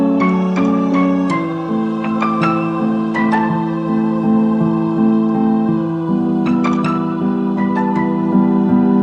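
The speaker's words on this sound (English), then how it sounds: "I layered up the piano with a bunch of different weird piano sounds and run those through like tape emulations and like frequency shifting" Layered piano built from several odd piano sounds run through tape emulation and frequency shifting, a soft melody of chords and plucked high notes over sustained low tones in an indie ballad bridge, steady and close, with no voices.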